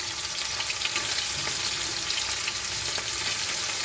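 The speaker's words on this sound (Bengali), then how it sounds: "তেল গরম হয়ে গেছে, এই যে তেলের মধ্যে মাছগুলো একটু ভেজে নিই।" Fish fry in hot oil, giving a continuous, fairly quiet crackling sizzle heard up close with faint occasional pops and no voices.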